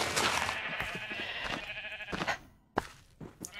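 A pink sheep in Minecraft gives a loud, close, wavering bleat, followed by shorter broken bleats and clicks near the end, with no talk.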